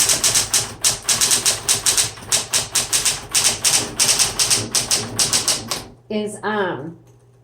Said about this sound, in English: This is a nice little typewriter.